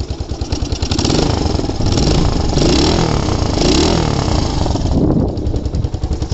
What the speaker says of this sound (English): So the bike's running well.